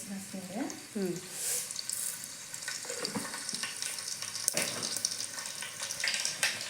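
Garlic and cumin seeds fry in hot oil with a steady sizzle and stirring scrapes, close by, while a voice talks over the cooking early on.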